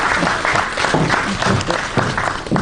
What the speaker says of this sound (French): on peut applaudir pour Francine